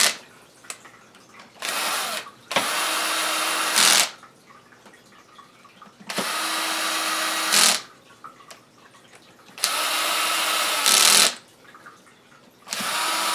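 A screw gun whirs loudly in four separate bursts of a second or two each as it drives screws into the transmission cover of a 1980 Suzuki FZ50 moped. Quieter handling noises fill the gaps between bursts.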